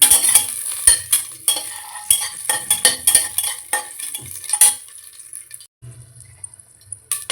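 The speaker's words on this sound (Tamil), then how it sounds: "நான் கொஞ்சம் எண்ணெய் ஊற்றிருக்கேன். இப்போ இது சூடான உடனே பட்டை இலையை" Cinnamon and bay leaf sizzle in hot oil in a pan for vegetable biryani, a steady close frying hiss with scattered stirring clinks and scrapes, briefly dipping quiet near the end before resuming.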